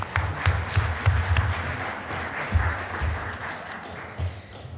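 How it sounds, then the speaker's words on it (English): Audience at an all-candidates accessibility election debate clapping, moderate applause with distinct individual claps that gradually thins and tapers off. "round of applause for this section"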